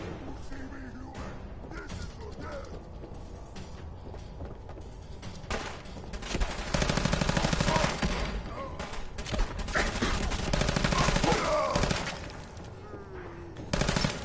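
Fallout 4 combat with repeated 10mm pistol fire mixed into loud game noise, shots coming in fast volleys that swell midway, while a player talks over parts of it.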